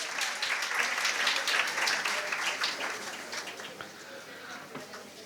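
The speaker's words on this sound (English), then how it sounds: "Let's have a round of applause for him." An audience at a career seminar claps in a full, even burst of applause that gradually softens over the final seconds, with faint voices underneath.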